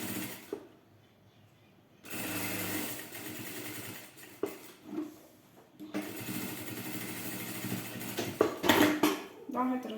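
A sewing machine stitches a seam on a small wallet pocket in short bursts of rapid mechanical whirring, separated by quiet pauses and small clicks and handling noises, close and moderately loud.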